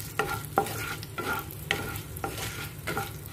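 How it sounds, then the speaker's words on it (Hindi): Whole spices roast in hot oil for a coconut-based vegetable Kolhapuri masala, with a steady crackling sizzle and sharp scraping stirs of a spoon every half second or so, close and without talk. "उसमें हम ये खड़े मसाले डाल रहे हैं और इनको भून लेंगे।"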